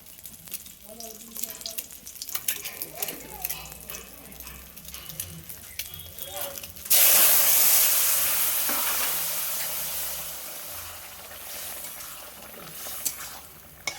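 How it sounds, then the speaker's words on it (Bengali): Curry of egg, potato, prawn and pointed gourd is poured into a hot pan over fried egg, bursting into a loud, sudden sizzle that slowly fades, after quieter stirring and kitchen clatter. "দেখো ডিমটা ভেজে নিয়েছি, নিয়ে এবার তরকারিটা ঢেলে দেবো।"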